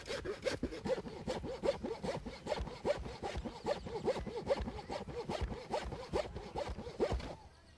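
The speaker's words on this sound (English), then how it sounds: "While George is sawing along that line" Rhythmic hand sawing through roofing to cut a hole for an attic turbine, steady back-and-forth strokes at a brisk even pace, close and clear with no talking.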